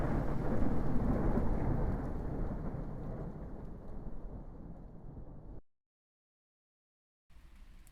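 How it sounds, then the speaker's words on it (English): Heavy rain pours steadily during an island walk, with rolling thunder rumbling through a dense roar that fades slightly before cutting out abruptly, then resuming briefly. "But I'm saved by the rain, and we abandon our walk"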